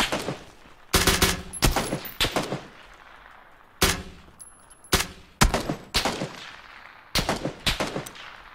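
Gunfire in the battle royale game PUBG: several loud, sharp bursts of shots in separate volleys spread through the clip, with short quiet gaps between them and no talking.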